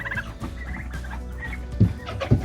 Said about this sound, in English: I pardon you two turkeys.